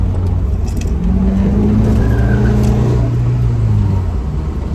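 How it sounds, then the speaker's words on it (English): A first-generation DSM car accelerates hard through a curve with some tire spin, its engine droning loud and close with rising tonal whine over a heavy rumble throughout. "Hooks up nice, a little bit of drama, a little bit of tire spin."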